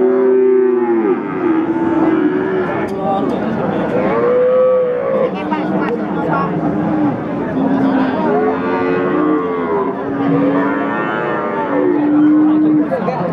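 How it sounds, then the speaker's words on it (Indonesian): Breeding female cattle, including Limousin and local breeds, moo repeatedly at a Pati livestock market. The calls are loud, long and overlapping, and a faint crowd murmurs beneath them. "Sapi bibitan betina."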